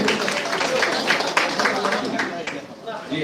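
Audience at an iftar gathering of the Shahjadpur upazila welfare council claps together in a dense, sustained burst of applause that tapers slightly near the end.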